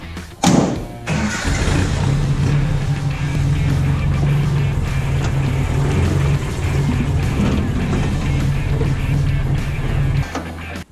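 A Nissan/Datsun 720 pickup fitted with a Weber 32/36 carburetor and electric choke drives along, its engine holding a steady low drone throughout after a thump at the start, with no talk.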